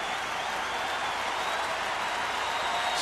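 A sellout baseball crowd on its feet applauds, a dense, even wash of clapping and cheering from a packed stadium that holds steady throughout.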